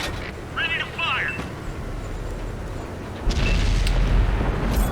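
Panther tank's 8.8cm gun fires in World of Tanks, a heavy boom at about three seconds followed by a sustained low rumble, with a brief earlier voice-like chirp in the background.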